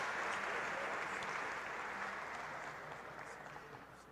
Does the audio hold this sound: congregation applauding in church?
yes